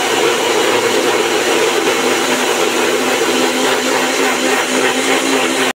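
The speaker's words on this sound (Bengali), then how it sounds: "বন্ধুরা মিক্সিতে পেস্টটা করে নেবো।" A kitchen mixer grinder whirs at high speed, grinding a spice paste for a koi fish curry, a loud, steady motor whine that runs unbroken until it cuts off abruptly at the end.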